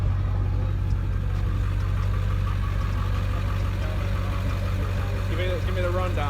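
A 7.3 four-door long-bed truck idles after a cold start, a steady low diesel rumble and clatter running throughout, with voices talking over it.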